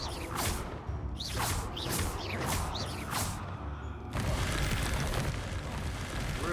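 A Confringo fire spell bursts in Hogwarts Legacy, with several swooshing whooshes over a dense rumble, then a loud sustained blast and crackling roar that continues to the end.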